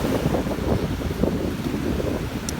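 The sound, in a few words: strong wind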